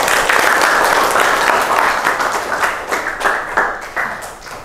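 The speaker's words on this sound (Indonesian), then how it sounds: "Silakan dulu kelompok 4, kita beri tepuk tangan." A classroom group claps for group 4 after its presentation in a lesson on Archimedes' principle. The loud, dense clapping from many hands runs for several seconds and thins out toward the end.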